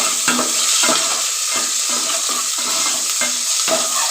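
Cashews and raisins roast in ghee in a pan for rava payasam, with a loud, continuous close sizzle and regular stirring strokes scraping the pan about twice per second.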